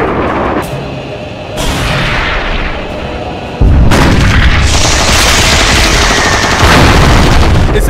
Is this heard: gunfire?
yes